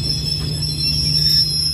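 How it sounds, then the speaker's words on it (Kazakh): A Kazakh-built Tulpar-Talgo passenger train stands at a station after stopping, a loud steady low rumble with sustained high whining tones, no talking. "Ал пойыз тоқтады."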